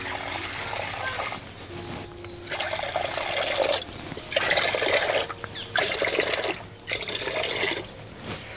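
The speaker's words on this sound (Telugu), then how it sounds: "కుండలో రెండు గ్లాసులు నీళ్లు పోసుకుందాం" Water is poured from a glass into a clay pot on a stove in several separate bursts of trickling and splashing, close up, with brief pauses between pours.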